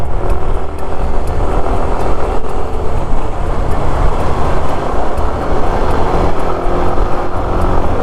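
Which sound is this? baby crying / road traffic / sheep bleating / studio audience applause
road traffic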